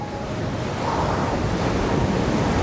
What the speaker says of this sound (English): God, the waves are beautiful.